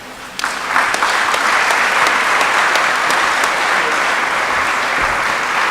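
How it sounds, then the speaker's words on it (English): Conference audience applauding at the 77th Annual New Year School and Conference: steady, loud, dense clapping from a large crowd that swells after a brief start and holds evenly throughout, with no voices over it. "Please let's rise to acknowledge and give him a round of applause"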